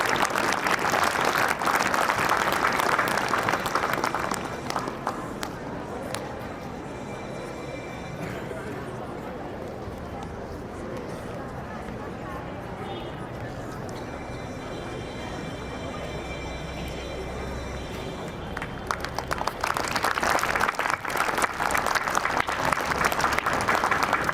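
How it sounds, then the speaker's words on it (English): Audience applause greets an award winner at a school ceremony during the inauguration of Carmel School Ambikapur's annual exhibition. Loud clapping opens, gives way to a quieter middle stretch, then swells again near the end. "Please give a huge round of applause for our champ."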